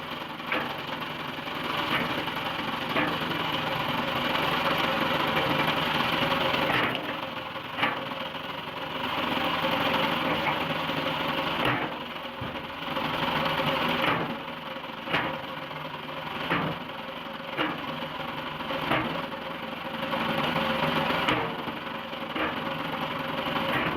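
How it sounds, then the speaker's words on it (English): Log splitter engine running steadily while logs are split, a continuous mid-pitched engine drone with rhythmic knocks and cracks recurring every few seconds, moderately loud with no talk. "one man places a thick log into the splitter's cradle"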